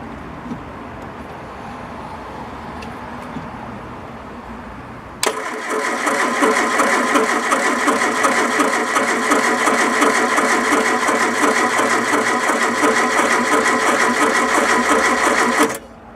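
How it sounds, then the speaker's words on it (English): Triumph Dolomite 1300 car engine: quiet background noise at first, then the engine cranks and starts abruptly, settling into a loud, steady, close idle with a fast mechanical clatter that runs for about ten seconds before cutting off. "Let's turn over the engine."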